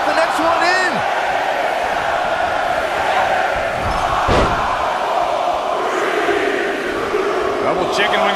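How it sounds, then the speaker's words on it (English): A large arena crowd in a WWE 2K19 Royal Rumble wrestling game roars steadily and chants in unison, with a loud impact near the middle, under constant commentary. "Listen to this crowd count the next one in."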